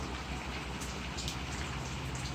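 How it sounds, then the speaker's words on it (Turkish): Heavy rain falls steadily outside a home garden, a dense continuous hiss of drops with a few sharper splashes standing out, heard alone with no voices. "Gördüğünüz üzere şu an bayağı bir yağmur yağıyor."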